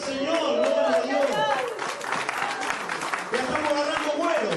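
A church congregation applauds during a sermon, continuous clapping over a loud voice and what sounds like background music.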